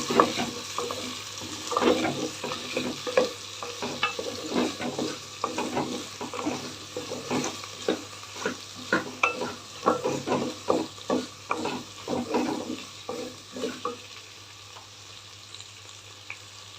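Okra stir-frying in a pan, a busy sizzle with constant rhythmic scraping and tossing strokes that stop abruptly near the end, leaving a quiet hiss.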